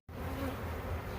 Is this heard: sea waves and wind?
no